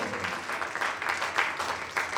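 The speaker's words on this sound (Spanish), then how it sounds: "Dale un aplauso al Señor." Church congregation applauding during a Spanish-language sermon, a steady wash of clapping at moderate distance with faint talk mixed underneath.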